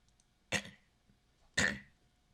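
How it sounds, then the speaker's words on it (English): Two short, harsh coughs about a second apart, close by, in an otherwise quiet room. "Excuse me for the coughing."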